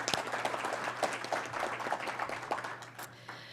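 Audience applause at a development industry forum in Surrey, a steady patter of many hands clapping throughout, moderately loud and continuous with no one talking over it.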